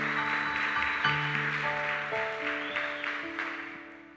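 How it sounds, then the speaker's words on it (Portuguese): A church congregation applauds softly beneath sustained keyboard chords, a faint wash of clapping fading over several seconds. "aplauda bem forte o nome de Jesus"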